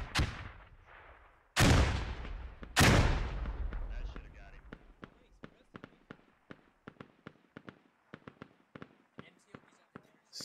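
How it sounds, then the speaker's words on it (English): Two heavy booming blasts open a firefight in the Squad video game, followed by a steady run of sharp, separate gunshots at mid distance that keep popping irregularly to the end. "a little firefight breaking out"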